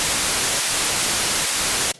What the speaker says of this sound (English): You can hear the top end of the sound is not being sidechained.